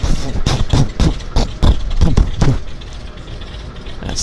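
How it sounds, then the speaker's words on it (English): A de Havilland Beaver floatplane's radial engine cranking and catching at a harbour airport, irregular loud chugging pops and coughs that settle into a rougher continuous rumble, close and powerful. "That's the sound of a round engine starting up."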